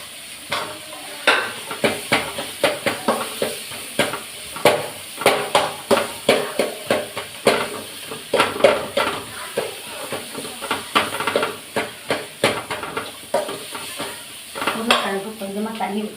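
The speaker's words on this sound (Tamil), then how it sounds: "நான் வந்து உருளைக்கிழங்கை மசித்து போட்டுக்கிறேன்." Potatoes are mashed and stirred in a cooking pan for an Indian breakfast, giving repeated close scraping and clinking strokes of a utensil against metal in an irregular rhythm over a soft sizzle.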